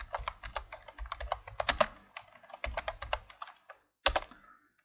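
Someone types a material name on a computer keyboard, producing quick, close clicking keystrokes in bursts with short pauses and a final firmer tap.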